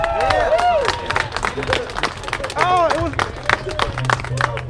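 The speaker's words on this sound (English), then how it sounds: "Round of applause for this guy." A crowd at a JDM old-school car meet claps and cheers in a short, lively burst of applause, with voices and chatter mixed in close by.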